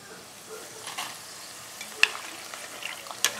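Faint, soft sizzling of corn tortillas frying in hot oil for chips, with a few brief clinks and pops, no talking.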